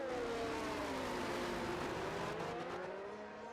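Race cars in a Miami round of an online racing series scream past in a close pack, several engines whining and rising and falling in pitch as they blitz by, loud and continuous with no talk.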